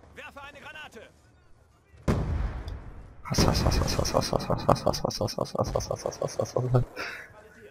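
A grenade goes off in the Call of Duty Black Ops 2 shooter game as a sudden heavy blast, followed by a dense burst of rapid gunfire, with a player's voice talking over the game sounds.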